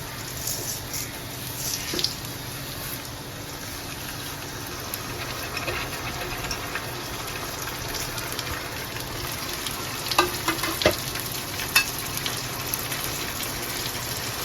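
Onions and pulao rice frying in a pot on a stove, giving a steady low sizzle through the whole stretch with a few louder stirring scrapes near the end and no talking.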